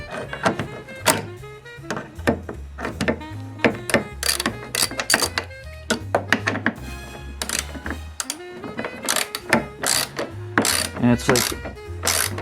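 A hand ratchet clicks in quick bursts while snugging bolts on a 2008 Saab 9-3 headlight, close and sharp, with clunks and knocks between the bursts and a brief spoken word.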